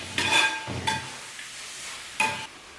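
Onion, cashews and raisins sautéing in a pan for Kerala-style chicken dum biryani, with a few bursts of stirring and sizzling scrapes separated by quieter frying, fairly close and without talk.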